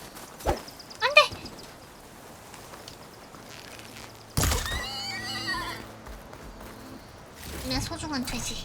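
A horse neighing in the video game Horizon Forbidden West, with a short whinny early on, then louder neighs and snorting, and further whinnying at the end, over a quiet background.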